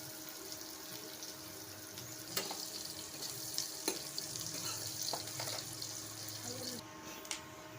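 Onions fry in oil for a home-cooked chicken dum biryani, a continuous soft sizzle. Occasional clinks and stirring taps sound against the pan, and running water is heard faintly in the background.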